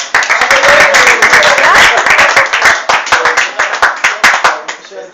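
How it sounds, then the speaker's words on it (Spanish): Audience applause at a Spanish-language debate workshop, dense clapping that starts loud, then thins into scattered individual claps that fade out over a few seconds, with voices under it. "Un aplauso para..."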